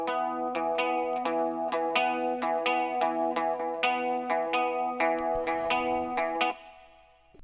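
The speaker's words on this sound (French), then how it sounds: "Donc voilà le son de la guitare avec tout le traitement." An electric guitar runs through amp simulation, EQ and effects processing, playing a steady run of bright chorused chords for several seconds before cutting off abruptly, with no other sounds alongside.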